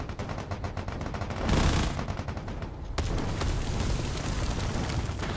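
Loud, dense gunfire and booming blasts from a battle in the video game Space Engineers, with mortar fire among them: a sharp burst near the start, then a sustained rattling barrage of shots and impacts.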